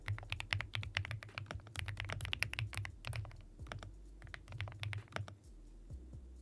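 Steady, busy typing on a creamy-sounding computer keyboard, with dense clusters of soft, rounded keystrokes rattling like pebbles, close and fairly loud with no talking, easing off briefly near the end.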